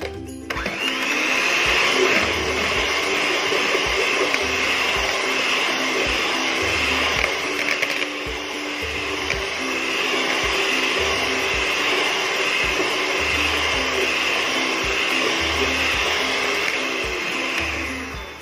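An electric hand mixer whirs steadily while beating vanilla cake batter for a white forest cake, a loud continuous motor drone running unbroken for the whole stretch, with no talking.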